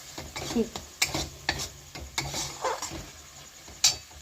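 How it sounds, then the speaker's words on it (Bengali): Kabuli chickpea ghugni cooks in a pan, with quiet frying and sizzling punctuated by several sharp spoon clinks and scrapes against the metal at irregular intervals. "কি রান্না করছো তুমি? আজকে হচ্ছে কাবলি ছোলার ঘুগনি।"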